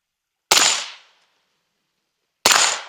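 Two sharp shots from an Aero Precision EPC-9 AR9 pistol-caliber rifle built with Glock magazines, each loud and close with a quick decaying tail, spaced about two seconds apart.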